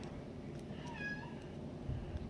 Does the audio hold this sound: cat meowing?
yes